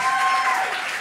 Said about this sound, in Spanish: Aplausos para Mike